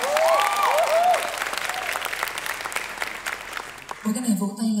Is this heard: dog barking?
no